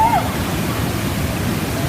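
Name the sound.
waterfall at YS Falls, Jamaica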